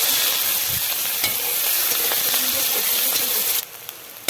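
Whole spices with dried red chilli, bay leaf, cumin, garam masala, cardamom, cloves, cinnamon and chopped onion frying in hot oil, a loud continuous close sizzle with a few stirring scrapes, easing near the end.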